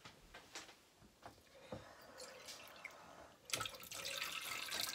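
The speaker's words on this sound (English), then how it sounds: "So I'm going to put a quarter cup of water." Water from a quarter-cup measure poured into a rice cooker holding dehydrated vegetables, heard as drips and a trickle, then a steady close splashing pour that fills the last seconds.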